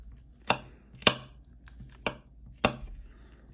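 A knife chops garlic on a board in four sharp, separate strokes spaced about half a second or more apart, close and distinct in an otherwise quiet kitchen.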